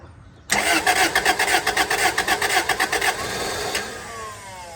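A Toyota Celica in need of a lot of work cranks with a quick run of rhythmic starter pulses, catches briefly, then settles into a rough steady idle that fades slightly, heard close up with no talking.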